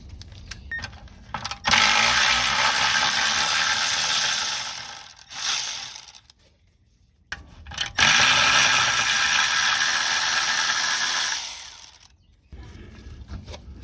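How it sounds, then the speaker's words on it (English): Ratchet wrench with 13mm socket loosening catalytic converter nuts under a Chevrolet Cruze 1.4, two long bursts of rapid clicking close by, separated by brief pauses and handling noise. "You do have to remove the catalytic converter, so we'll go ahead and get these nuts loose."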